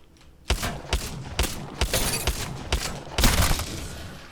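Gunfire in Apex Legends during aim warm-up practice: a series of sharp, loud weapon shots, about seven spaced irregularly over a few seconds, with a low rumble between them and no voices.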